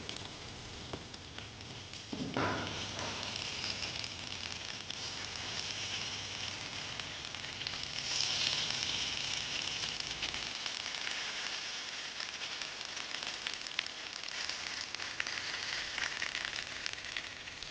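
Fish rolled in banana leaf cooks on a hot tava with a little oil, a steady broadband sizzle and crackle that starts low, swells sharply after two seconds and holds loud throughout, with no talking.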